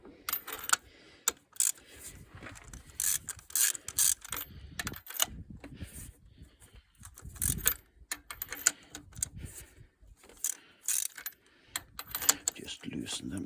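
Spark plugs being loosened with a long 16mm socket wrench on a Rover 75 engine during head gasket work, giving repeated clicking ratchet and metallic mechanism bursts in irregular bunches, close and moderately loud.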